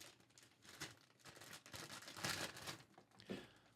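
A small plastic bag crinkles during a webcam unboxing, with a run of rustling, crackling handling noise, near and fairly quiet, with a few louder crinkles toward the end and no talk.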